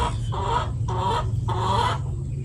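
Chickens cluck in three short bursts over a steady low hum, each call a rapid run of throaty notes separated by brief pauses.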